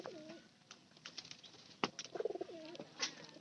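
Pigeons coo in soft, low throaty calls, with a quick burst of wing flapping and a sharp clap partway through, fairly close and otherwise quiet.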